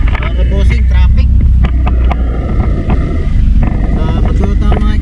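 Road traffic in Tagaytay on a busy holiday Sunday, with car engines and passing vehicles rumbling steadily nearby, wind buffeting the microphone, and someone talking over it.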